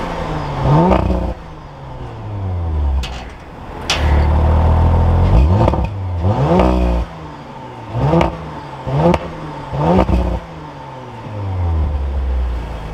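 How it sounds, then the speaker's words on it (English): A 2021 Audi RS5 Coupe idles close by and is revved repeatedly, several sharp throttle blips and one longer held rev climbing and dropping back to a throbbing idle, loud, with no talking. "Engine roars to life"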